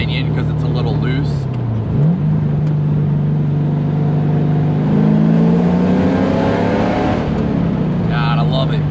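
An LS2 V8-swapped 2004 Lexus IS300 drives on back roads, its engine droning loud and close as it revs up and down through the gears, with someone talking inside the car.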